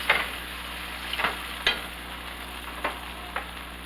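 Salisbury steak patties fry in oil in a pan, a steady soft sizzle under a few scattered clicks and scrapes of a utensil, close and fairly quiet.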